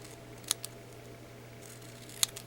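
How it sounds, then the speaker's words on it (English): Two short, crisp snips of scissors cutting off the white edges of fabric for a six-sided sampler quilt block, spaced about two seconds apart over a faint steady hum. "So I just take my snips and just cut it"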